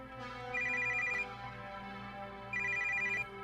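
A video game telephone rings in two electronic trilling bursts separated by a pause, clear and steady over a low ambient hum.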